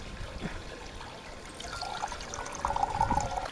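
Acid poured from a container into a swimming pool beside a return jet, a soft trickle that swells into a fuller splashing stream near the end, close and moderately quiet.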